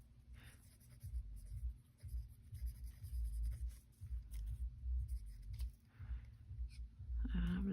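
Pencil scratching across a strip of paper in a sewing journal project, with soft, continuous writing strokes close by and a brief rustle at the end.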